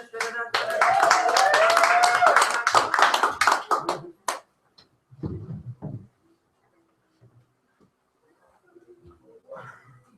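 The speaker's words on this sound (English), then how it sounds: "And some applause and such." Audience applause at a live weekly open mic poetry reading, a few seconds of lively clapping with voices mixed in, then scattered last claps and quiet murmuring.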